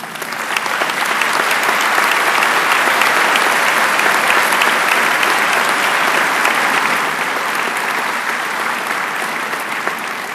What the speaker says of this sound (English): present the salutatorian medallion to Austin, I would ask that you all join me in honoring him with a round of applause